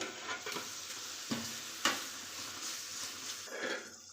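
A chilli powder mixture fries in oil in a pan for a kohlrabi kuzhambu, a soft continuous sizzle with several distinct spoon scrapes and knocks as it is stirred.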